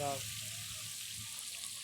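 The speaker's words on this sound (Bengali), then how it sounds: "এই যে মাছ ভাজা চলছে" Fish fries in an outdoor field kitchen with a soft, continuous sizzle; a short burst of voice opens the clip before the frying carries on alone.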